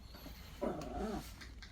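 A household dog in a small studio apartment lets out a brief, soft whimpering yelp at mid-distance, a short burst against quiet room tone with no talking.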